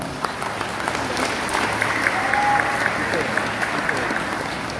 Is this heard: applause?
yes